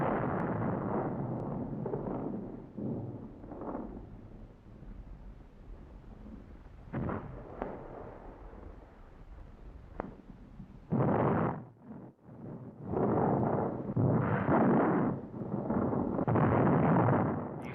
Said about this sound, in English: The artillery opens fire against enemy field positions and later shifts aim onto the town.